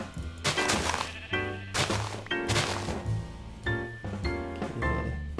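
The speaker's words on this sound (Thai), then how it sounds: "เจ้าแกะน้อย" Sheep in the Minecraft video game bleat in short wavering calls over loud in-game music, several bleats spaced across the passage with thumping beats underneath.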